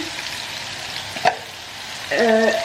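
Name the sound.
frying food in a pan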